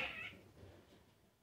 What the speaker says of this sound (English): a fucking vicious cat tried to get in and attack my cat